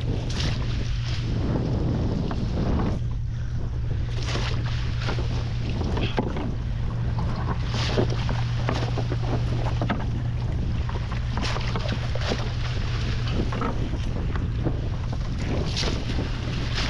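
Strong wind buffets a fishing boat at sea, a constant loud roar of gusts and microphone-blasting rush over a steady low engine drone, with splashing water throughout.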